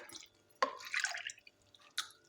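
Two cups of water pour into a cup of cornflour for Bombay Karachi halwa, giving a few soft splashing, dripping bursts, one sharp splash near the start and another toward the end, in a quiet room.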